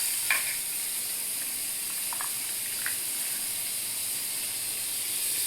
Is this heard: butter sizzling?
yes